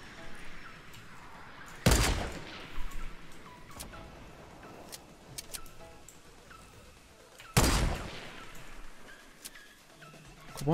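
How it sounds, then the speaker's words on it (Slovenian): Gunfire between players in the Fortnite video game: two sharp, loud distant-sounding shot bursts several seconds apart, with scattered faint clicks and ticks between them over quiet game ambience. "ti to se tle strelata"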